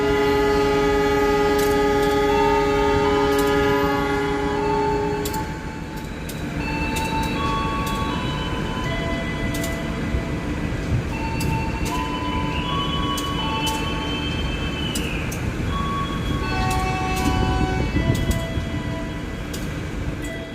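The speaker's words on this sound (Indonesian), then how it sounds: "kereta api Lodaya akan berangkat lebih dahulu" The Lodaya passenger train, running from Solo Balapan to Bandung, pulls out of a station with a loud sustained horn, then a steady rolling rumble of wheels and carriages, with squealing tones and clanks on top.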